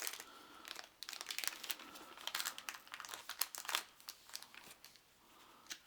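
Paper crinkles and crackles as a folded rule sheet from a Hasbro Transformers 3-D Battle-Card Game pack is opened out, with a run of close, uneven rustles and sharper crackling bursts throughout.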